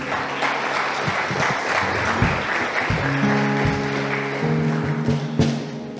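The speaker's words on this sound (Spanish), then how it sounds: "Dale un fuerte aplauso a Jesús." Lively clapping from a church congregation during a Spanish-language sermon, steady and close with scattered sharper claps, while sustained tones, likely music or singing, enter under it in the second half.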